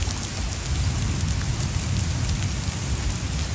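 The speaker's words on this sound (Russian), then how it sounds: "скачут шарики ледяные" Steady dense patter of small hard pellets falling and bouncing, like hail mixed with rain, continuous and fairly close with no voices.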